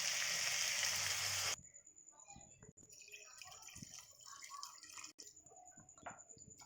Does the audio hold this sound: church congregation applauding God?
no